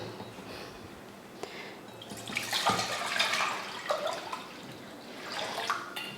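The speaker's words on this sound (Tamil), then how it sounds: "இப்போ அரிசி வேக வைக்கிறதுக்கு ஒரு பாத்திரத்தில் தண்ணி ஊற்றி கொதிக்க வச்சுக்கலாம்." Water poured from a vessel into a cooking pot to boil rice, splashing and trickling in uneven bursts close by, with no talk.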